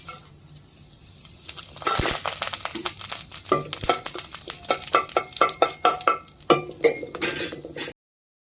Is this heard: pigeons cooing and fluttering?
no